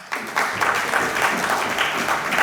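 An audience at a talk on skills and the economy breaks into a round of clapping for a startup founder, a dense, steady patter of many hands that starts after a brief pause and carries on to the end.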